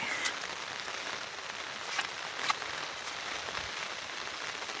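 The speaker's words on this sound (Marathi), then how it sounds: "आज दिवसभर खूप पाऊस सुरू आहे" Steady heavy rain pours down over a small garden and house through a dark day, a dense even hiss with occasional sharper drips and taps, no voices.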